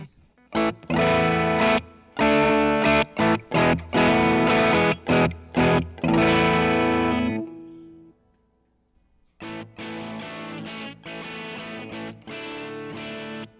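An electric guitar runs through a single multi-effects pedal with distortion, the gain set to about 60: choppy, heavily driven chords ring out in a rhythmic burst, fall silent briefly, then resume with a further run of distorted strums.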